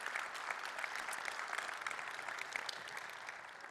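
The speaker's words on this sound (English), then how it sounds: "please give a huge applause to all the contributors to vuejs in this case," Sustained applause from a conference audience at a JavaScript developer event, steady dense clapping throughout with no voices over it.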